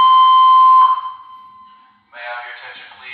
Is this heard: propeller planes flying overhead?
no